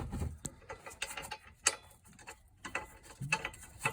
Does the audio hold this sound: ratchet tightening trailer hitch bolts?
yes